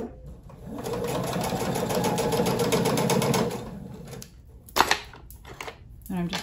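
Sewing machine stitching the pocket of a quilted clutch wallet, a brisk rattling run for a few seconds that then stops, followed by handling clicks and a brief voice.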